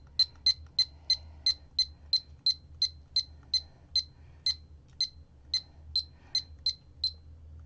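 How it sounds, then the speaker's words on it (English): A mechanical timer is wound and set to one minute, giving a close, steady run of sharp ratcheting clicks, about three per second, with no talk over a low background hum. "Let me fix my timer to say just 1 minute"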